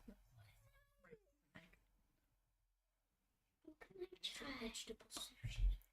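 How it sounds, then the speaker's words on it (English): A cat meows in a few short cries that rise and fall. A quiet voice speaks before them, then a pause follows, and a louder, noisier passage closes the stretch. "Oh, look, a kitty cat."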